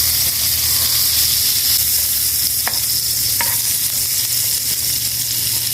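Butter sizzles steadily in a hot pan while mushroom sauce for roast chicken is being made, a continuous close frying hiss with a couple of faint clicks and no voices.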